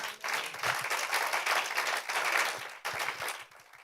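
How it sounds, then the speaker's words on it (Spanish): Church congregation applauding together, a dense steady wash of many hands clapping at moderate distance, with a brief dip near the end before the clapping resumes and fades. "Dele un aplauso al Señor."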